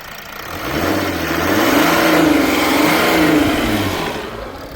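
A warmed-up Mercedes W211 engine is revved once, close by. Its tone climbs smoothly, holds for a moment, then falls back toward idle, with no talk over it.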